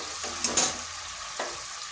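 Ground spices (turmeric, cumin, coriander and Kashmiri chilli powder) sizzle in a pan with a splash of water while being stirred and fried for masoor dal with taro, a steady hiss broken by a few sharp scraping stirs.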